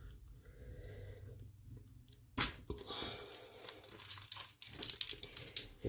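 Masking film is peeled off an acrylic painting of memorial soldiers from a Peiloff kit, with quiet crackling and tearing bursts after a soft, near-silent opening.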